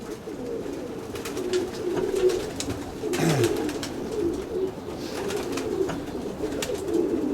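Domestic pigeons coo steadily in a loft in Zemun, a dense layered murmur of overlapping low calls running throughout, with a few louder, nearer coos rising above the flock.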